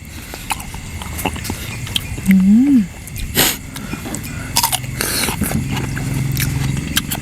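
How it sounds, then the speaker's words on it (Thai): Crunchy raw beef, served as Isan-style soi ju with a bitter jaew dip, is chewed close to the microphone in scattered crisp crunches and wet bites, with a short hummed murmur partway through. "เนื้อนี่กรุบๆเลยนะคะทุกคน"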